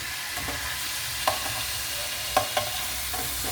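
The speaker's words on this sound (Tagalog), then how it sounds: "magluluto po ako ng pork chop. Piniprito ko muna." Pork chop marinated in soy sauce and calamansi frying in a pan, a steady broad sizzle with a few sharp pops and scrapes breaking through.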